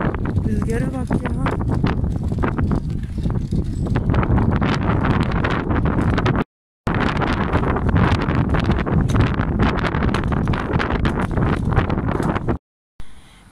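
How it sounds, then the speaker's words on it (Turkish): Strong wind roars and buffets the microphone in continuous gusts, with voices talking underneath and brief dropouts in the recording. "Rüzgara bak ya."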